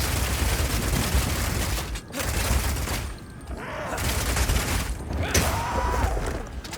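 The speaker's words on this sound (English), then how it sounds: "Being able to run while shooting with Rapid Shot is also great for when you want to perform a fighting retreat." Rapid Shot bow fire in Path of Exile 2, heard as dense, continuous rapid volleys of shots and combat impacts that run nearly throughout, with brief dips and no talking.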